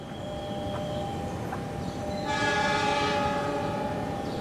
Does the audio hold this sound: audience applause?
no